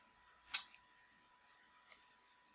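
Two crisp computer mouse clicks, a sharp one followed about a second and a half later by a softer double click, close and isolated against a quiet background while working in CAD software.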